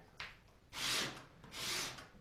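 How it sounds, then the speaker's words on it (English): Soft rasping strokes of hand sandpaper on small wood pieces, two long rubbing passes after a brief scrape, quiet and close. "Now I'm just kind of sanding them randomly."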